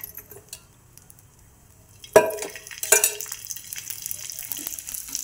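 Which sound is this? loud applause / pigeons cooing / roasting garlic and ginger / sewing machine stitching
roasting garlic and ginger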